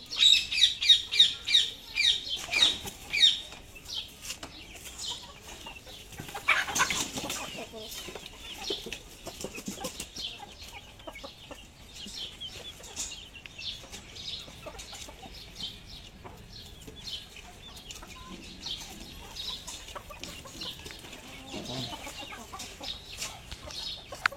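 Desi hens in a small backyard poultry coop cluck and squawk, busiest and loudest at the start, then settle into scattered nearby clucks over a steady farmyard background.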